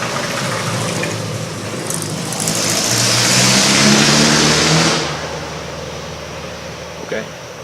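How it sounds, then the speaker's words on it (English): An ATV engine passes at close range outdoors, its roar swelling and then fading, with a loud revving middle and a quieter tail. "Let's wait on the ATV."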